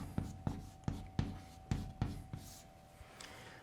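Chalk or marker writing an equation on a board during a physics lecture: several short, crisp tapping strokes at an irregular rhythm, then softer scratchy scribbling that fades, close and fairly quiet, without talk.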